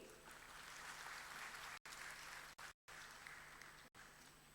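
Parents and guests in an audience clap steadily at a graduation convocation, a dense even patter of applause broken by several brief dropouts.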